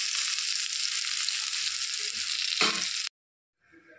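Teasel gourd and potato pieces fry in hot oil with a dense, loud, steady sizzle that runs for about three seconds and then cuts off abruptly to near silence.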